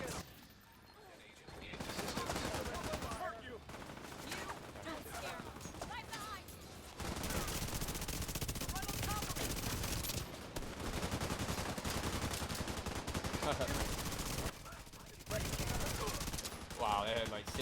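Sustained bursts of automatic gunfire from multiple weapons in The Division 2, with rapid overlapping shots filling nearly the whole stretch, broken by a couple of short lulls, loud and close with voices talking underneath.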